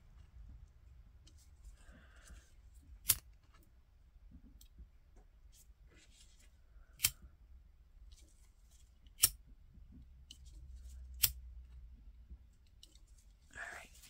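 Scissors snip through double-layered ribbon pieces for a split bow, four or five sharp isolated cuts spaced a few seconds apart against a quiet background with faint rustling.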